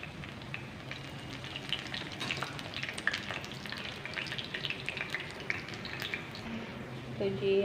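Cabbage kebabs fry in hot oil in a pan, turned to brown golden on the second side; a steady, dense sizzle runs throughout with small crackles and a brief clatter near the end.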